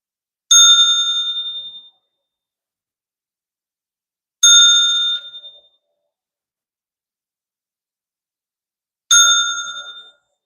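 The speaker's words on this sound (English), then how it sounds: "Now I'm going to ring the bell to open up the third eye." A handheld bell rung to open a tarot reading, struck three times with clear ringing tones spaced a few seconds apart, each ding decaying over about a second in an otherwise silent room.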